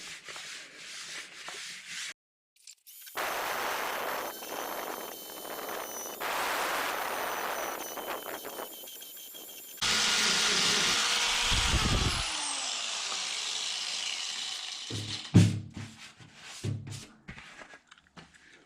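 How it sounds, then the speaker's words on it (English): A finger sander grinds down repaired sheet metal on the rear wheel arch of a Datsun 510, a steady close, harsh whir that shifts in tone midway and ends in scattered clatter. "we're going to go ahead and use the finger sander just like we did and push this piece down to a workable level"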